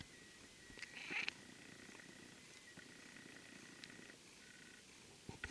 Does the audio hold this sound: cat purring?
yes